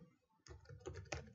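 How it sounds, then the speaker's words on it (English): Quick keystrokes on a computer keyboard while a password is typed at a Windows 10 login setup, a short close burst of clicks after a brief silence. "Type in your password"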